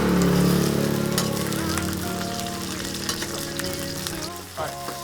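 Pork leg sizzles and spits loudly in a hot pot with garlic, a dense crackling hiss that continues steadily with a few stirring clunks.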